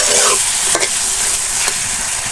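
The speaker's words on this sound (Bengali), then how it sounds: "মশলাটা কষানো হয়ে গেছে, আমি মাছগুলো দিয়ে দিচ্ছি" Fresh local shing fish frying in spiced masala: a loud, dense, continuous sizzle close by, broken by a couple of short spatula scrapes.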